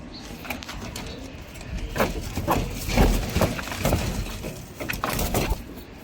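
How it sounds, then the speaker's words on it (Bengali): Several pigeons coo close by in soft, repeated throaty calls, mixed with scattered fluttering and scratchy movement. "দেখুন কবুতরগুলো"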